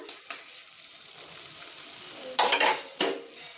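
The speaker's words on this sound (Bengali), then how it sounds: "ঘি দিয়ে আমি এবার এটা মিশিয়ে দিচ্ছি।" Drumstick-flower malai curry stirred in a pan after ghee is added, a steady soft sizzle broken by a few sharp scrapes and clinks of a spoon against the pan near the end.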